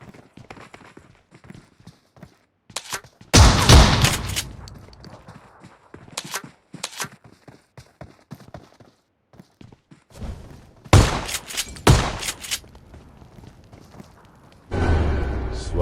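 Shotgun shots in a video game quick match: several loud, sharp blasts in separate bursts, each followed by a short rumbling tail, with quieter thuds and footsteps between them.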